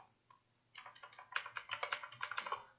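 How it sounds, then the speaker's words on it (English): Rapid clacky keystrokes on a mechanical keyboard, a quick uneven burst of sharp taps close by after a couple of isolated clicks. "I use a mechanical keyboard, so I guess that will be a problem for you."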